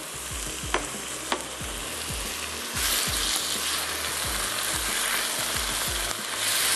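Tomatoes fry with a steady hiss and crackle in a pan, while a utensil stirs and scrapes in repeated knocks; the sizzle grows louder midway.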